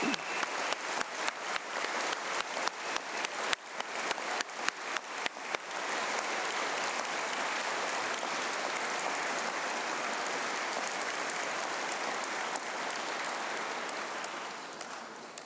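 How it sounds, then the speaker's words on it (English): Audience applause for the graduates at an Open University degree ceremony in Manchester: loud, sustained clapping from a large crowd that starts with distinct claps and swells into a dense, steady roar lasting throughout. "let's start today's ceremony by giving all of our amazing graduates a huge round of applause"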